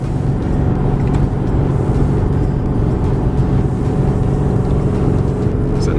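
A 2020 Ford Powerstroke diesel truck climbs a mountain grade under throttle, its loud steady engine and road rumble droning continuously from inside the cab.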